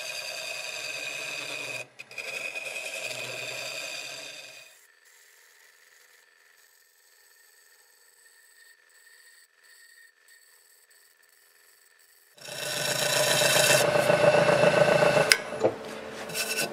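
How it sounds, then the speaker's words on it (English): A steel scraper works a zebra wood segmented bowl on the lathe, giving a loud, steady rasping scrape in two bursts, the first about four seconds and the second a longer run near the end, with a quieter hum between. "this I'll use the scraper on."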